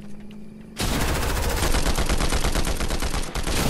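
Rapid gunfire in the video game Fortnite bursts in after a quiet moment, a loud, steady automatic rattle of shots that runs to the end with no talk over it.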